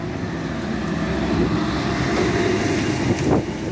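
A truck speeds downhill through heavy traffic near Jaraguá, a steady broadband roar of engine and road noise with wind buffeting, swelling briefly near the end as a vehicle passes close.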